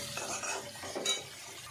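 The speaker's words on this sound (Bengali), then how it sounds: "ভালো করে কষিয়ে নেব সুন্দর করে।" Soybean masala with tomato paste being stirred and fried in a pan, a soft continuous sizzle with light scraping and clinks of a utensil, quiet and close.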